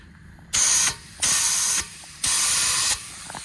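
Liquid sprayed from a pump spray bottle onto the rusty exhaust seam of a Mercedes-Benz W202 C180 Esprit, three loud close hissing bursts of about half a second each, separated by short pauses.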